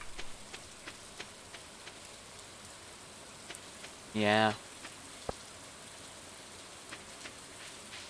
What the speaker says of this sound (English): Wow, it's rather stormy today.